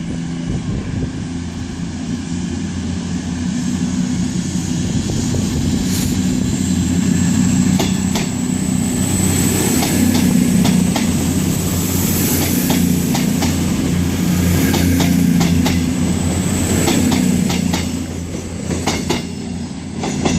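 A CrossCountry Voyager train pulls out of Exeter St David's station bound for Leeds, its engines droning steadily with continuous rumble and rail noise, fairly loud and close throughout, with no talking.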